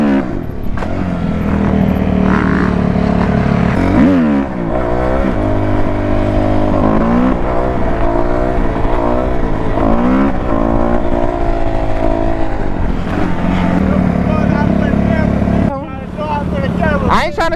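A dirt bike engine running at night, a loud, close, buzzy drone that rises and falls through repeated revs, briefly dropping around the four-second mark, with voices talking over it throughout.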